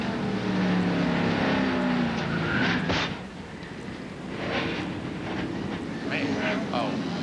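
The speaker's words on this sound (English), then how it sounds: "A very noisy and a very violent wreck." Race cars roar loudly through a violent crash at a Primestar 500 auto race, with a sharp impact burst partway through and engines and crowd noise continuing under an announcer's voice.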